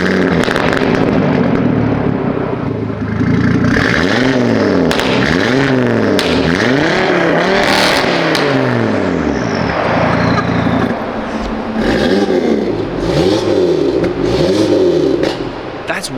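A car engine fires up and revs hard several times in a row through an aftermarket exhaust, each rise and fall loud and close, throaty and aggressive.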